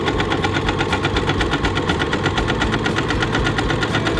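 Sewing machine zigzag stitching along the edge of an apron, a steady fast mechanical whirring with a rapid even needle chatter, close and loud throughout with no talking.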